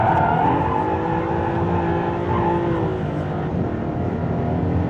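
A Maserati MC20 in ESC off mode is driven hard on the Top Gear track, its engine droning loud and steady close by with shifting pitch and faint tire noise.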